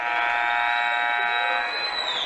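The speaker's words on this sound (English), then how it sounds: "Autumn Wheatley at the buzzer." A loud electronic buzzer at a girls' high school basketball game, Erie at Fort Morgan, sounds as the third period ends. It is one steady, harsh tone lasting about two seconds before fading, with faint crowd noise beneath.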